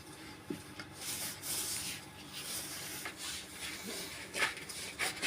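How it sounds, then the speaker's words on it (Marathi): Chapati dough is kneaded by hand, giving quiet, soft, rhythmic rubbing and pressing sounds close by, with no talking. "याच्यामध्ये पाहिजे तेवढा गर करून हात फिरतो आपला आणि पटपट पीठ मळून होतं"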